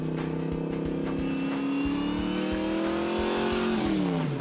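A Yenko Camaro muscle car engine revs and accelerates with a loud, rising growl that climbs steadily through a gear, heard up close and alone.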